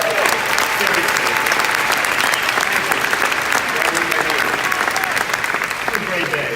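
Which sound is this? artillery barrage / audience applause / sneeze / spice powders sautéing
audience applause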